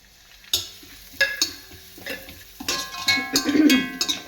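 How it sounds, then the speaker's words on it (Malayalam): Curry leaves hit hot oil while frying for a Kerala aval mixture (flattened rice snack), crackling in sharp bursts with stirring, the sizzle swelling into a dense, close spatter near the end. "നമുക്ക് ഈ കരിയേപ്പടി കൂടെ വറുത്തെടുക്കാം കേട്ടോ"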